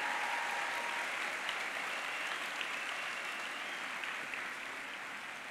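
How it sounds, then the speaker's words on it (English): Steady, sustained applause from a large crowd at the opening of the BT Young Scientist and Technology Exhibition 2018, a dense even wash of clapping that continues without a break. "So I think that deserves a big round of applause."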